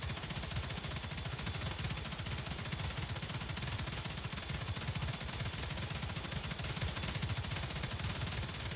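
Automated base defence gun turrets in the sci-fi game StarRupture fire a rapid, unbroken stream of shots that stays loud and close from start to finish.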